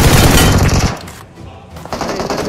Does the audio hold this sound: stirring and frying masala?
no